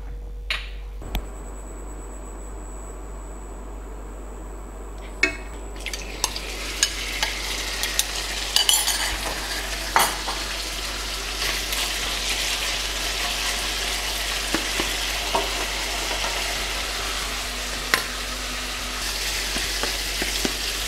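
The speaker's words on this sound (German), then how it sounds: "ich erhitze jetzt erstmal ein bisschen Öl im Wok, denn zunächst mal brate ich das Fleisch an." Meat fries in hot oil in a wok, a steady sizzle that builds after a quiet start, punctuated by sharp clinks and stirring scrapes throughout.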